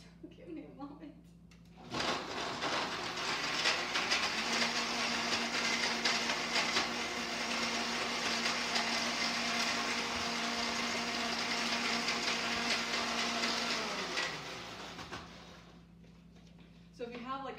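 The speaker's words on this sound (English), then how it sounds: "so now I'll need to make some noise here and blend this" A high-speed blender whirs steadily through a smoothie for about twelve seconds, loud and continuous with a sustained motor hum, starting abruptly and winding down at the end.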